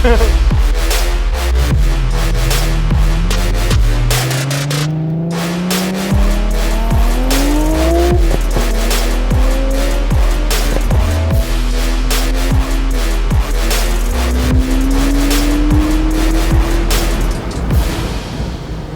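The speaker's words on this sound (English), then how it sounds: "it's MP4 Spider. Car is pretty fast." A flood-damaged McLaren MP4 Spider is driven hard, its engine revving loudly and climbing in pitch through repeated shifts, with tires squealing and skidding throughout and no voices.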